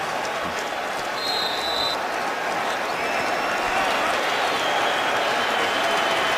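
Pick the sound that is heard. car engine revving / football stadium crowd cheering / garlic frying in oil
football stadium crowd cheering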